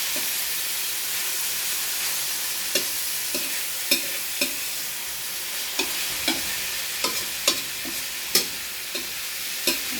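Meat and tomatoes stir-fry for Ilocano pakbet, a steady hiss and sizzle broken by irregular sharp clicks and scrapes of a spatula against the pan.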